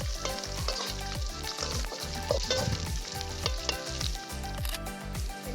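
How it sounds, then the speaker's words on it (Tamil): Dried red chillies fry in oil for a Tamil sundakkai vathal kuzhambu, a continuous crackling sizzle under rhythmic background music. "வரமிளகாய் எண்ணெயில் வதக்கும் போது நல்ல வாசனையாக இருக்கும்."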